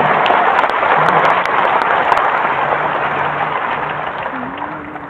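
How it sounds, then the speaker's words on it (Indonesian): A church congregation breaks into sustained applause, a dense, loud wash of many hands clapping that slowly eases off over several seconds, with faint voices underneath. "Beri tepuk tangan buat Tuhan."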